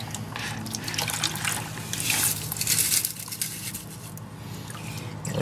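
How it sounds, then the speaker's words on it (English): Water rinses out a gold sucker hand dredge, a quiet, close trickling and splashing with small gurgles that swell briefly in the middle before settling back. "Rinse it out real good."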